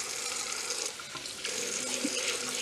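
Hot water runs steadily from a tap into a sink, a continuous close splashing stream with small shifts in tone as the flow hits the basin.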